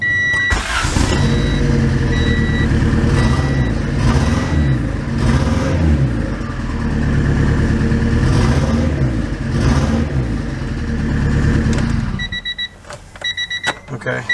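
Honda Prelude engine idling roughly and misfiring with its injectors unplugged, a loud close uneven rumble with pulsing surges, then cutting off near the end, followed by a few beeps and chimes.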